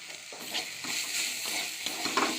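Red amaranth greens frying in oil in a wok with green chilli, onion and garlic, a steady close sizzle with repeated stirring scrapes and brief clatters throughout.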